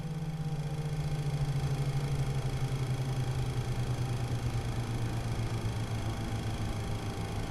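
Boeing 737-300 engines in X-Plane 12 spool down after shutdown, a steady low hum that slowly drops in pitch under a faint, constant hiss, with no talking.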